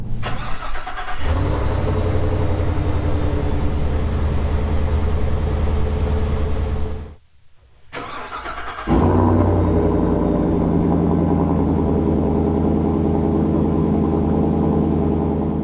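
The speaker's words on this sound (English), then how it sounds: "So starting the truck up with the OEM exhaust, I'll let you hear that first" A GM 6.6L gas V8 pickup with stock exhaust cold-starts, cranking and firing into a loud, deep rumbling idle, cuts off briefly, then restarts and settles into a steady throaty idle.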